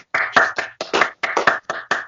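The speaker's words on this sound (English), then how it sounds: "I quickly want to take this opportunity to give a round of applause for Film Forum, Nate's, and Morgan for coming on" A small group claps for guests on an online show, short bursts of a few people's hand claps in uneven clusters, near and fairly loud, with brief gaps between.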